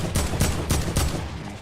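Gunfire in a shooter video game. Several loud, rapid bursts of shots follow each other in quick succession, with no talking.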